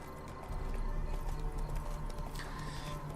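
Roach the horse trotting in The Witcher 3 (W3EE mod), steady clip-clop hoofbeats on ground over a constant ambient game background, with a brief whinny-like tone.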